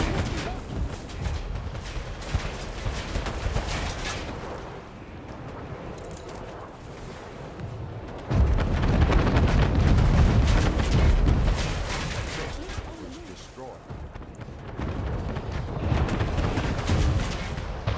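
Harbor guns fire on an enemy fleet in the Anno 1800 strategy game, heavy cannon booms rolling in dense bursts over a constant battle din, growing loudest midway and again near the end.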